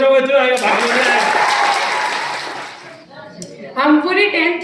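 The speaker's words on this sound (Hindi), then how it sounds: "जोरदार तालियां बजाओगे तो आएगा" A school talent and award event audience bursts into loud, sustained applause that fades after about three seconds, with a voice speaking before and after.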